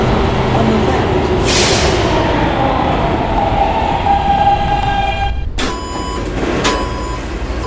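An R160B subway D train stands at a station, loud rumbling and a rising electric motor whine, then a sharp burst of hiss and two bright chime tones near the end, with an announcement voice over it.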